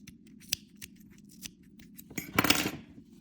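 Scissors snip crochet yarn, a single short crisp cut after a few faint handling taps.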